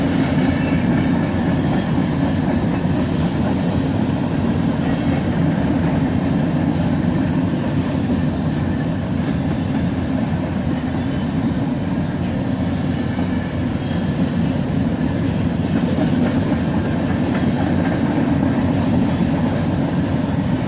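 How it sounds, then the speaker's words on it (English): A freight train of covered hoppers keeps rolling close past, with a distributed power locomotive at the rear; a loud, continuous roar and wheel clatter on the rails, steady throughout with no voices. "And here comes the distributed power bringing up the rear."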